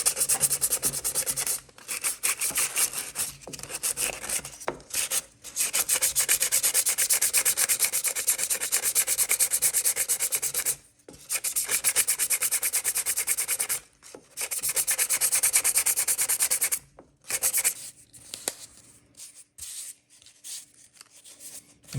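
Acetone-soaked cloth scrubs hard against a small metal penny stove, a dense rasping rub in long continuous strokes with brief pauses between bursts, close and fairly loud, no voices.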